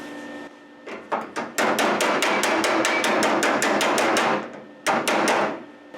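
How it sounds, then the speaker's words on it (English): Hammer-off-dolly bodywork on the bent fender of a 1968 Mustang: rapid, bright metallic taps in a fast run after a few slower strikes, then a short second burst, loud and close with no speech. "That technique is hammer off dolly."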